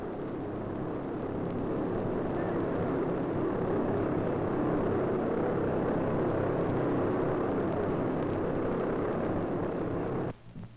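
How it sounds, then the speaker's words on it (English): A big six-engine pusher-propeller airplane roars down the runway with its engines wide open, a loud, steady, dense drone that fills the scene and then cuts off abruptly near the end. "Now the big plane comes roaring down the runway, its 6 huge engines wide open"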